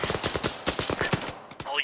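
Rapid bursts of gunfire in a military video game event, loud and close, with irregular volleys of shots and a brief voice crackling over them.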